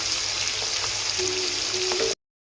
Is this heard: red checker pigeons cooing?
no